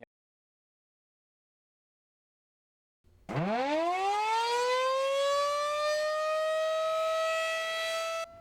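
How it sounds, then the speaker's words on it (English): A loud tornado warning siren winds up after three seconds of silence, rising in pitch and then holding a steady, sustained wail. "The blare of a weather siren warning you that there's a tornado on the ground"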